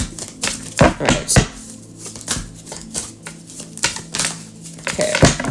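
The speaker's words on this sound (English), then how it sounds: "this deck does not want to shuffle" Quick bursts of tarot cards riffling and slapping together, repeated several times in uneven rhythm, close by with soft handling noises between.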